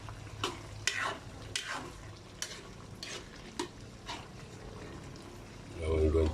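Spoon stirring unripe papaya simmering in coconut milk in a pan, a series of scraping, sloshing strokes with a soft sizzle beneath, ending in a louder bubbling burst; a voice talks briefly.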